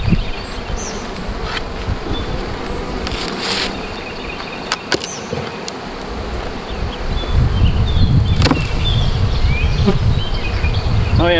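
Honeybees buzz around an open, full hive of built-out frames outdoors, a continuous close hum with passing individual bees, wind and rustling, and a voice speaking briefly.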